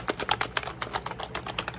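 Quick, crisp keystrokes clatter in a steady rapid rhythm with a mechanical-keyboard sound, close and clear, with no voices.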